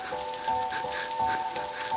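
Rain falls steadily in a continuous soft hiss with faint patter and no voices, fairly quiet and even throughout.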